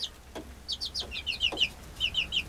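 Backyard chickens in a suburban homestead cluck repeatedly in quick, bright bursts, a small flock heard close and steady across the moment with faint low background noise and no talking.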